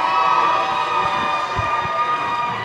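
A roller derby crowd cheers for the Rainier team inside an arena, a sustained, fairly loud roar of many voices with shouts and whistles and no words standing out.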